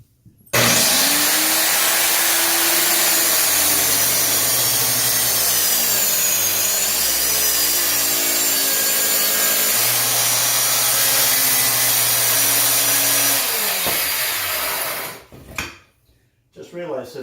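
A power saw cuts through old wooden floorboards in a 1914 bungalow, a loud, close, sustained whine with shifting pitch as the blade bites, running about fifteen seconds before spinning down and stopping.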